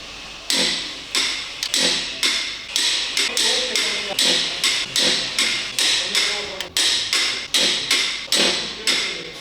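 A torque wrench tightening engine bolts on an Isuzu D-Max to 166 newton-metres gives a long run of sharp, regular ratcheting clicks, close and loud, repeating in quick bursts throughout.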